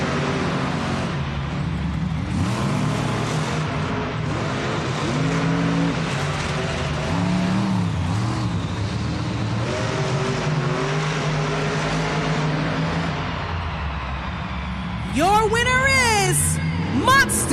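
Monster trucks racing in an arena at a Monster Jam event in Tacoma, with loud, continuous engine roar and revving that fluctuates in pitch, under a steady crowd and announcer wash, then rising revs near the end.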